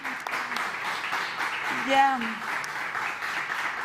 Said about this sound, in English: one applause for the ladies